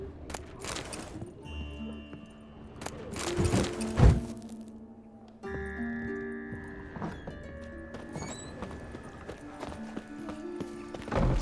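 Hooves clip-clop in a steady rhythm as Roach, the horse in The Witcher 3 video game, trots along. A whinny and some game music and ambient tones sit around the hoofbeats, and the sound stays moderately loud and near.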